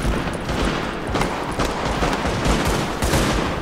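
Dense, continuous gunfire in Tom Clancy's The Division, loud rapid automatic bursts overlapping throughout with no pause and no voices.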